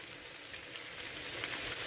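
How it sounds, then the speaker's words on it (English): Pre-cooked Perdue chicken sizzling in a pan, a faint, steady hiss of frying, heard close and alone. "that's starting to sizzle."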